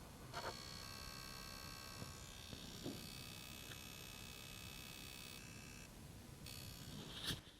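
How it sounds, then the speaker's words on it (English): A Quest 3 controller battery charging dock gives off a faint, steady static whine with high buzzing tones. It runs unbroken through the quiet room, with a few small clicks and rustles. "There's a really loud charging noise."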